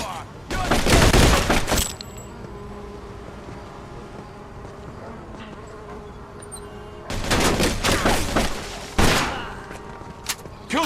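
Rapid gunfire bursts in the 1940s-50s crime game Mafia II, loud close volleys of automatic fire coming in two separate spells with quieter ambient sound between them.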